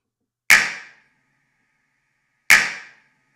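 Two finger snaps two seconds apart, each followed by a half-second reverb tail from a recorded studio live room, crisp and loud against silence.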